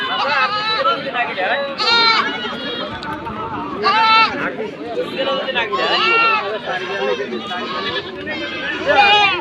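Goats at a crowded livestock market in Ambari, Bangladesh, bleat repeatedly and close by in overlapping calls, mixed with steady chatter and bargaining voices from the crowd.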